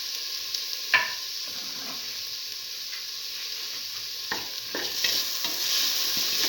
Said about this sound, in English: Mix. Thoroughly saute mix.